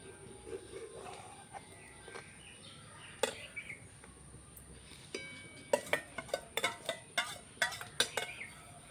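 A spoon stirs rice in boiling milk for payesh in a home kitchen, with irregular metallic scrapes and clinks against the pot that grow sharper and more frequent toward the end, with faint birdsong behind.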